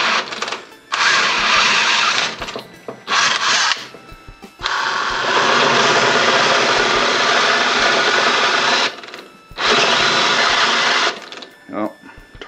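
A drill bit bores through metal right up to breakthrough while drilling and tapping, a loud steady whining grind in long runs broken by short pauses, with a brief clatter near the end.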